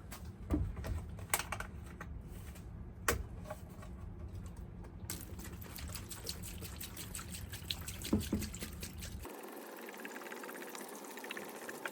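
Rusty iron weights go into a non-toxic rust remover liquid, producing close clattering knocks and trickling, sloshing water that stops abruptly near the end, leaving faint background hiss.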